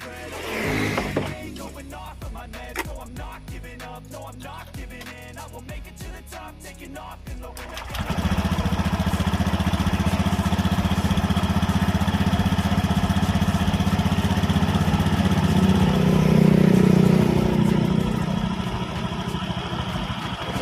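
An automatic scooter engine, its cover still off, cranks after several seconds of clicking and handling noises, then catches and settles into a steady, close, even idle that continues to the end.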